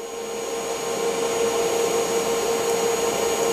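Steady close electrical buzz and hiss of a welder running a bead on a sprocket mounted on a welding turntable, continuous and even with no speech.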